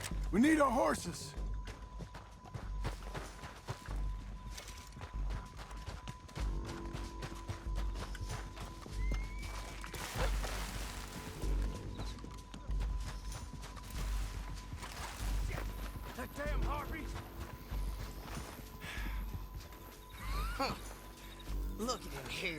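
Horses gallop in the Red Dead Redemption 2 video game, a steady drumming of hooves running through the whole stretch under game music and ambience, with occasional thuds.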